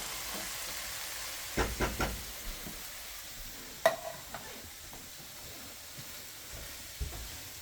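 Turkey cooking in a pan for tacos, with a soft steady sizzle underneath and a few sharp clinks and scrapes of a utensil stirring the meat, no voices.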